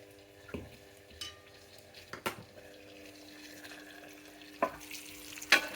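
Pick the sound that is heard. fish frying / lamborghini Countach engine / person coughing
fish frying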